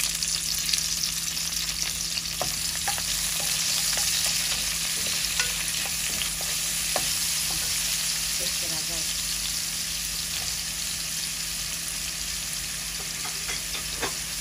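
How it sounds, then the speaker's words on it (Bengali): Onions sizzle steadily in hot oil in a wok, a continuous close crackle with occasional stirring scrapes, with a voice speaking intermittently in the background. "আমাদের পেঁয়াজ ভাজা হয়ে গেছে।"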